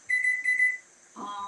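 A kitchen timer alarm beeps in two clear repeated bursts while spaghetti squash is cooking, followed by a short clatter of kitchen handling after it stops.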